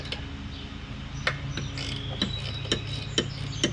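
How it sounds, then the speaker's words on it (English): A ratchet wrench with a 10 mm socket clicking on an MTD Cub Cadet Powermore push-lawnmower engine, giving a short run of small, evenly spaced ticks over a low background hum. "Got my 10 millimeter wrench, ratchet."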